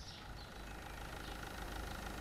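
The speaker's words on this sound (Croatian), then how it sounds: "I ovi traktori se voze posvuda." A tractor engine idles and drives around in the game Supermarket Simulator, giving a steady, low, rough mechanical drone with a faint knocking texture, heard alone at fairly low level.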